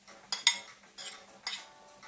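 Garlic goes into a pan over low heat for a Korean-inspired spaghetti sauce, with a few light metallic clinks and scrapes of utensil against cookware, quiet and close, with no talking.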